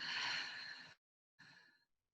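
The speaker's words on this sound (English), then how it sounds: "Exhale, release." Two deep breaths out during a breathing meditation, close and soft: one long sighing exhale, a brief silence, then a shorter second exhale trailing off.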